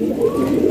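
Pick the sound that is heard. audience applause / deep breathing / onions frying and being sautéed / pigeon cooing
pigeon cooing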